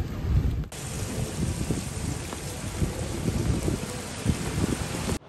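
Steady rain pours down at a temple complex in Vietnam, a dense, continuous hiss of drops on surfaces with a soft low rumble underneath, loud and close throughout with no talk.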